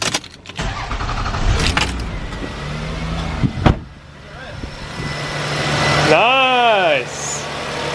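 Engine with its stock airbox cranking and catching after some mechanical rustling, then settling into a steady idle close by, with a rising whine near the end.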